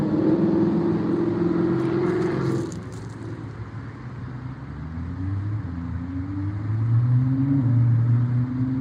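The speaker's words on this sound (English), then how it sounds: "That's a Lamborghini." A Lamborghini engine revs in a video game, a loud continuous drone that dips briefly and then climbs through rising gear pulls, with no talk over it.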